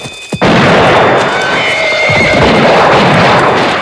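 From a western film, a horse's loud, drawn-out neigh comes amid a dense, roaring wash of crashing noise that swells in suddenly after a short quiet opening and stays loud throughout.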